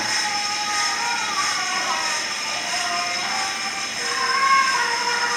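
An old wind-up gramophone plays a record: a faint, wavering melody buried under heavy, constant surface hiss.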